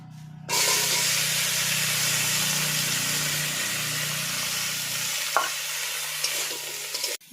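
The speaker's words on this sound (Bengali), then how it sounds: "আলুটা তুলে নিয়ে এবার আমি সঙ্গে সঙ্গে ফুলকপিটা দিয়ে দেবো।" Cauliflower dropped into hot oil after the potatoes are lifted out, a steady loud sizzle of frying that runs unbroken with a few faint clinks of a utensil, no talking.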